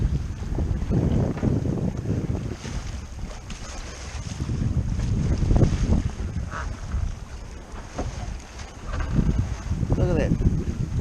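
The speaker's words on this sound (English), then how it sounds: "5 minutes ago there was no wind at all, and now we've got 15 knots" Strong gusty wind roars over the microphone aboard a Nova 28 yacht under sail, with water rushing along the hull and someone talking over the blustery noise.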